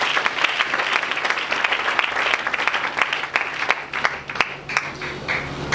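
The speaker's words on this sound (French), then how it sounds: "Acclamons pour le Seigneur." A church congregation claps for the Lord during a French-language service, producing dense, sustained applause. The clapping stays loud and steady for several seconds, with a few sharper individual claps standing out near the end.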